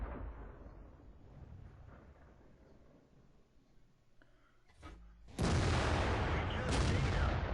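A KV-1S tank cannon fires in World of Tanks, a sudden loud boom that bursts in near the end and rolls on as a sustained, dense roar after quieter battle ambience and a few faint clicks.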